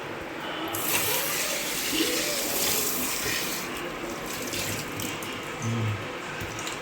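Tap water runs steadily over a cleaned lake pomfret being washed in a home sink, making a continuous, close, even gush that lasts throughout.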